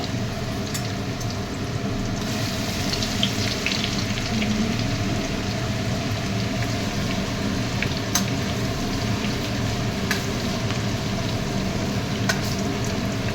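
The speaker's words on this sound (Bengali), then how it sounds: "আদা রসুনের পেস্টটা একটু ভেজে নেবো।" Ginger-garlic paste fries in hot oil in a home kitchen for chilli chicken, giving a steady, soft crackling sizzle with a few sharper pops, moderately quiet and continuous without voices.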